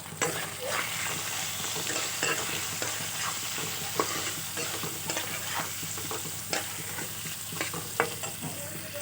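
Cubes of paneer fry in a pan with turmeric and salt, a continuous moderate sizzle with frequent spatula scrapes and stirring knocks, no one talking.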